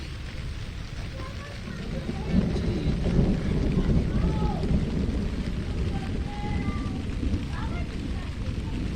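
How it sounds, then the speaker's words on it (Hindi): Steady rain hiss with low rumbling thunder running throughout, rain falling on a camera and phone, while a person speaks briefly over it. "कैमरे के ऊपर जो है ना बारिश हो रही है"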